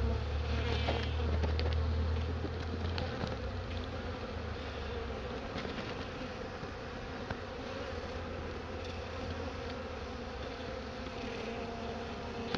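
A late-season bee swarm in October buzzes steadily and densely throughout, a continuous close hum with no talking.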